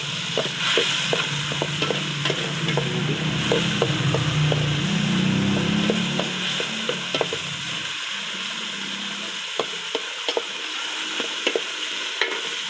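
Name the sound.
tomatoes cooking in the pot for milkfish sinigang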